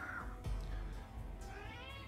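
A cat meows nearby, a couple of short tonal meows alongside soft thumps and background noise, fairly faint overall.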